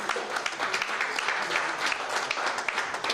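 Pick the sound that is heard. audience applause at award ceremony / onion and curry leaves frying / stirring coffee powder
audience applause at award ceremony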